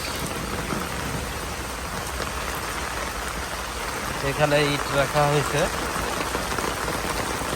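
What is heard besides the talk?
rain falling on the ground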